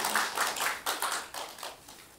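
An audience at a Korean presentation event gives faint, sparse applause: a few scattered hand claps in loose, uneven rhythm over a short stretch.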